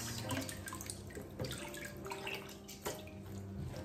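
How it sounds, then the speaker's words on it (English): Sweet potato leaves are washed in water, with soft splashing, trickling and dripping sounds that stay faint and close throughout. "With the sweet potatoes, leaves, just wash it and put it as it is."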